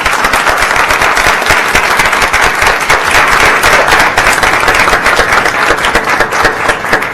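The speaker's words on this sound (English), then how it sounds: "would you please join us in a round of applause for these amazing students for OPS" An audience at a board of education meeting gives a sustained round of applause for students, dense crackling clapping from many hands, loud and steady the whole time.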